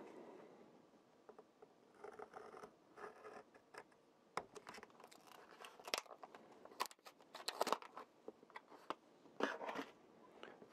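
Packaging for a budget AliExpress SSD being opened by hand, with soft crinkling, tearing and rustling in scattered bursts, close and fairly quiet, with sharper crackles toward the end.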